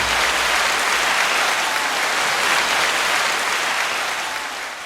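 A podcast studio audience gives a sustained round of applause for a guest, steady dense clapping from start to finish that tapers slightly at the end, with no voices over it.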